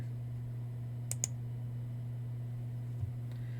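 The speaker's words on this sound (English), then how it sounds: "To zoom out to a full view and return to the Workplane to the original position, click on the Home button" Two quick, faint computer mouse clicks on the Tinkercad Home button, heard over a steady electrical hum, with no talking.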